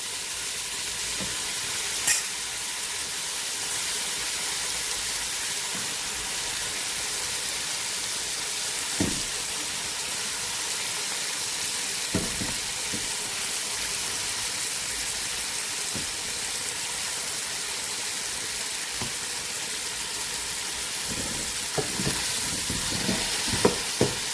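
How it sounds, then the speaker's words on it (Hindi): Red lentils stirred into a simmering pot of Turkish vegetable soup, giving a steady bubbling sizzle across the whole stretch with occasional clicks of a spoon against the pot. No one speaks. "मिलाइए अच्छी तरह से"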